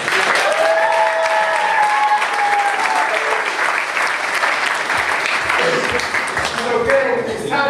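A room of people at an agency meeting claps loudly and steadily, with a few voices and cheers mixed in under the dense clapping before it thins out toward the end.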